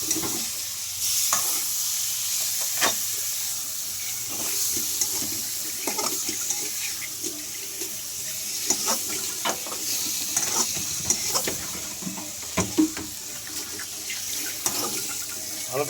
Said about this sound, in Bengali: এবার মেরিনেট করা মাছগুলো এটার মধ্যে আমি আস্তে করে দিয়ে দিব, দিয়ে হালকাভাবে নেড়ে দেব